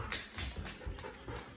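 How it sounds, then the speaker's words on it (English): A dog whimpering softly in faint, short bursts with some panting against a quiet indoor background. "That's my dog."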